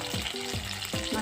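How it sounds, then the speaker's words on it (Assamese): Fish frying in oil in a pan gives a brief, steady, close sizzle with a few squealing tonal chirps rising from the hot oil. "মাছখিনি ভজা হৈ গ'ল মাছখিনি বহুত কাঢ়াকৈ নাভাজো"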